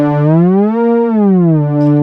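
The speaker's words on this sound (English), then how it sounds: "So it pitch bends and jumps to that next note." A mono synthesizer slides smoothly between notes with a slow glide, its pitch bending up, holding, then bending back down in a clean, loud, buzzy tone, with no talk.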